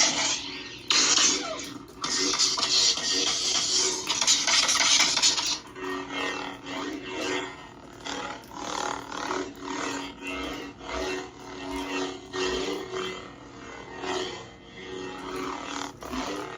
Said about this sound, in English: you want to turn on the clashing sound, hold it 3 times